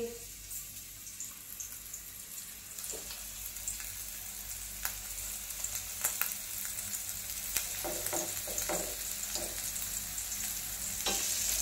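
Fish, coated and pan-fried on both sides for a Konkan-style fish curry, gives off a steady faint sizzle with scattered clinks and scrapes, plus a soft trickle of running water in the background.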